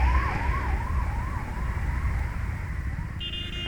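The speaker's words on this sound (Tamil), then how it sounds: "எனக்கு நிறைய ஆம்புலன்ஸ் போகுது." An ambulance siren passes along a night road, its wailing tone rising and falling in a steady, repeating sweep over a constant low rumble of traffic and engine noise.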